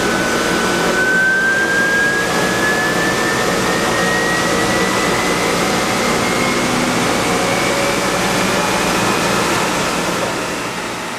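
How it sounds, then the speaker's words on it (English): A vacuum pump drawing in maple sap at a sugaring operation gives a loud, continuous whooshing roar with a faintly rising whine, steady throughout and easing off slightly at the end. "First we'll take a look at the vacuum pump that sucks in the all the sap"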